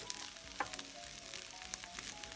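Steady crackling sizzle of onions sautéing and caramelizing in a pan, with occasional brief pops and a faint clink, continuous and close.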